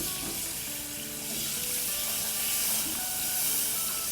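Room-temperature milk, two cups, poured into a hot pan over golden-browned bread for bread pudding, giving a steady close hiss and sizzle with watery splashing, no talk.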